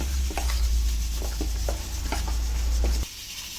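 A spoon mixes farali dhokla batter with ginger-chili paste and sugar in a bowl, a run of soft wet scrapes and taps over a low steady hum, close and alone.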